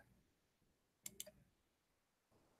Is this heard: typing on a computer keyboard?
yes